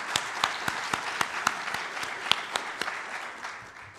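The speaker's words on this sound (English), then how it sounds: "I would like to give an applause for our warm host from Poland" Applause for the host on a conference main stage at a space event, steady clapping from a crowd with a few sharp louder claps standing out, moderately distant and even throughout.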